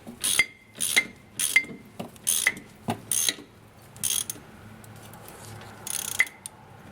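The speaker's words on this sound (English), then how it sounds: "Now you're free to tighten up the bottom bolt." A ratchet tightens the bottom strut bolt on a Volvo 850 front suspension, giving a loud, close series of evenly spaced clicking pulls, about eight strokes, before the action slows and stops.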